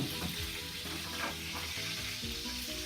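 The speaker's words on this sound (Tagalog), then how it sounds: "Gisahin na natin to." Sautéing in a frying pan over a gas flame while making chicken afritada, a steady close sizzle and crackle of frying with occasional stirring scrapes, continuous throughout with no talk.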